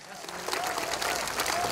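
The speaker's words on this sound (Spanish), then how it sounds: "Fuerte el aplauso, fuerte el aplauso." Concert audience at a show claps and cheers, a dense wash of applause with crowd noise rising within a short burst.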